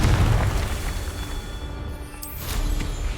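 In Hogwarts Legacy, a Confringo blasting spell bursts with a deep booming explosion at the start, its rumble fading before a second sharper burst and crackle hits near the end.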